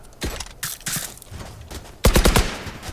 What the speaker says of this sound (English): Let's try a shotgun maybe.